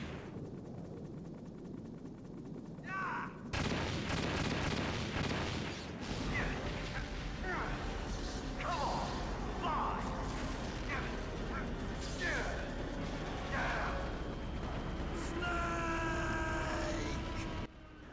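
Heavy booming explosions and rumbling blasts from a Metal Gear Solid boss fight, a sudden loud burst followed by sustained roaring noise with scattered sharper hits, with some game voice sounds mixed in.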